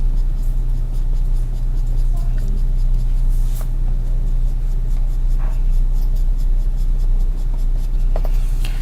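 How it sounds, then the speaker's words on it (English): Pencil sketching a rough sectional drawing on paper, a steady soft scratching under a constant low electrical hum, with a few faint clicks and taps. "I'm doing a very rough sketch here."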